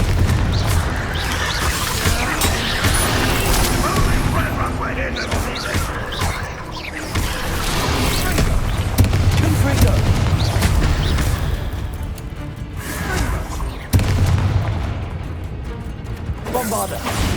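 Spell explosions from Confringo casts in Hogwarts Legacy, with repeated booming blasts and crashes layered over constant game music and combat noise, loud and dense throughout, with shouted voices.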